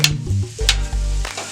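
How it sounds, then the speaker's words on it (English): Potatoes and mushrooms scraped and pushed around with a metal spatula on a hot steel griddle, a few loud close clanks and scrapes over a steady sizzle, no talking. "I'm gonna move the potatoes back a little bit. Get those all cooking up back there. Get these mushrooms over here a little bit."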